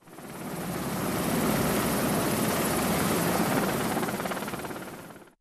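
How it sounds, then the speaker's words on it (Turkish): Search and rescue helicopters flying over a flooded area, their rotors making a loud, steady, close whirring roar that swells in and fades out over several seconds, with no voices. "Bölgede çok sayıda arama kurtarma helikopteri de çalışmalara havadan destek veriyor."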